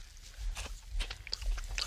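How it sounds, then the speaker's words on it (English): A crunchy centipede is bitten and chewed outdoors in the woods, giving several close, wet crunches and chomps at an irregular pace with no talking over them. "I can hear it crunch."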